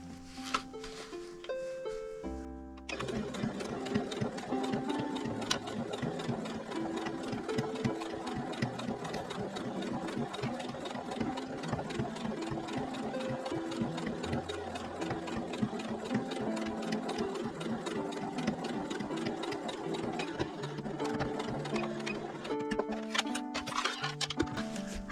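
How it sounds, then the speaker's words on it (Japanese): Sewing machine topstitching along the zipper edge of a men's smartphone pouch, a steady close mechanical whir with fast ticking needle strokes running continuously for about twenty seconds after a short pause. "表の方からこの上から端ミシンをかけます"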